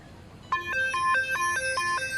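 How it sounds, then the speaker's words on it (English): A mobile phone ringtone plays close and clear: a bright, repeating electronic melody of short beeping tones that starts abruptly and cycles rhythmically through several pitches. "my phone just totally stepped on your moment"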